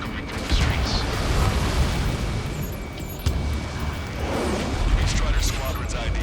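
Ace Combat 7 battle over a city under martial law: a dense, continuous rumble of jet roar and booming gunfire, loud and heavy throughout, with a sharp impact midway and voices speaking over it.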